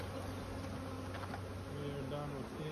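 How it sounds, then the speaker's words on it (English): Many bees buzz steadily in a low, continuous drone, close and moderately loud, with faint background rustling. "We got lots of bees."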